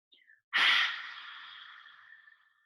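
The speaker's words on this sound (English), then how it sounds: "Inhale through the nose." A single deep breath drawn in through the nose during a beginner hatha yoga class, close and fairly loud, rising sharply then tapering off into silence.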